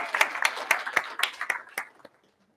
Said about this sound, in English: Give yourself a round of applause for coming.